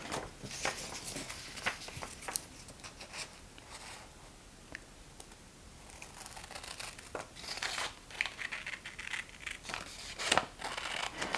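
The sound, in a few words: cutting paper for junk journal flip book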